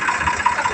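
A tractor engine idling on a farm gives a brief, steady, throbbing mid-pitched rumble, close and fairly loud, with no talk.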